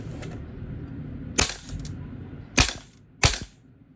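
A black VFC HK416 A5 gas blowback airsoft rifle is test-fired: three sharp, loud single shots with a snappy bolt clack, spaced roughly a second apart against a faint background hiss.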